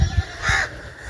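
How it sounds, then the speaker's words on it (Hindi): A single crow gives one short, harsh caw in a rural Punjab village on a rainy day, heard fairly close over low background noise. "ये देख रहे हो कौवा जा रहा है"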